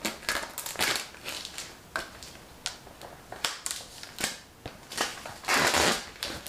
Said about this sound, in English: Does anyone else like taking things out of plastic?